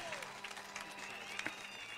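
A church congregation applauding a visiting bishop, a short burst of steady clapping with voices and faint music mixed in.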